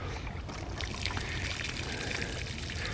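Water pours steadily from a hose soaking the ground around newly planted summer squash and zucchini in a garden bed, a continuous splashing trickle at close range with no talk.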